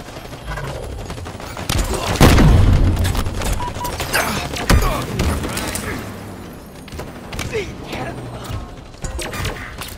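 Gunfire in Halo Infinite during a Strongholds match, with bursts of shots, impacts and crashes crowding a busy battle mix, loudest early on, while voice callouts come through over the action.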